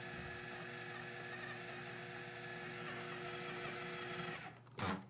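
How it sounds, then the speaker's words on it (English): Food processor running on low, grinding sun-dried tomatoes with garbanzo beans into hummus: a steady, faint motor whir with a fixed tonal hum, then a brief clunk and rattle near the end as it stops. "I put it on low so that it will really start to grind up the sun-dried tomatoes with the garbanzo"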